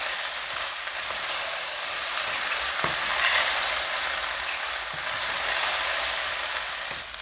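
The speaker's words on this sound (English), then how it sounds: "I combine all of it together," Cooked grains being stirred in a hot frying pan with other ingredients for guggallu, a steady sizzle and fry with a few scraping clicks of the spoon, close and continuous.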